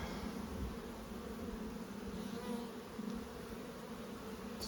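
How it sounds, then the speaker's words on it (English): Steady, dense buzzing of many calm Buckfast honeybees during a hive inspection, close and continuous throughout, with no voices. "Just such lovely calm bees as well."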